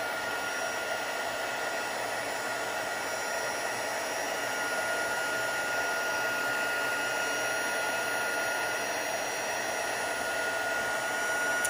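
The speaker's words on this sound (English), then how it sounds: "So now I'm going to take my heat tool and I'm going to heat up." A heat tool blows hot air over embossing powder in a long, steady, even whoosh that holds constant for the whole stretch, with no talking over it.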